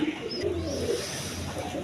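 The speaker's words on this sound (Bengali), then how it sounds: "রেড কালার গররা কবুতর" Red Gorra pigeons coo nearby in low, rolling, repeated calls over a continuous ambient hum.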